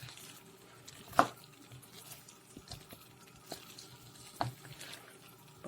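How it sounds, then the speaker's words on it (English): Vegetarian meatballs are stirred into a hot curried stew, with quiet wet stirring and soft bubbling, a couple of sharper spoon knocks against the pot, and no talk. "I'll just stir it in and cover it"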